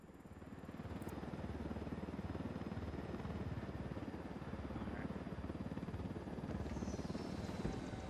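A helicopter arrives in the video game Ghost Recon Wildlands, its rotor producing a steady, loud rhythmic thumping and engine drone that persists throughout, with no speech.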